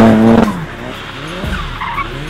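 A VUHL 05 mid-engine car slides around a tight, twisty track, its engine note falling away before the tires squeal in a long, loud skid as the rear steps out.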